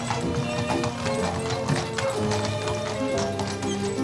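Horse hooves clip-clop at a steady trot as a horse-drawn carriage rolls along, close and clear, with an even rhythmic clatter throughout and a faint whinny-like tone mixed in.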